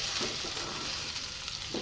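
Sliced okra (bendi) frying in oil in a pan and being stirred, a steady close sizzle with soft scraping pushes from the spoon, no voices.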